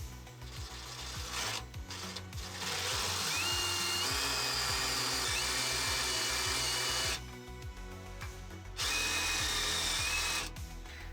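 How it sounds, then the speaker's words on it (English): A power drill bores a pilot hole through a metal bracket on a van, whining steadily in long bursts with brief pauses, close and loud with a gritty rasping edge. "then you have to be really careful about drilling through"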